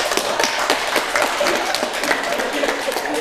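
An audience claps in a lecture hall, a dense, steady burst of applause heard close and alone, without any talk over it.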